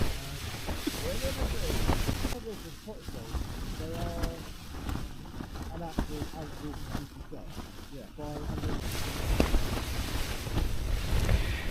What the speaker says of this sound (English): It's blowing an absolute hoolie here. I think it's about 40 mile-an-hour winds.